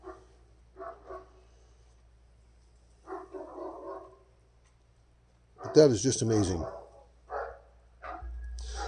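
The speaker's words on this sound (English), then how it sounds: "Sorry for the barking dogs." Dogs barking in a few sharp, fairly close bursts with some yips, loudest in the middle of the stretch, mixed with someone speaking during rock cleaning.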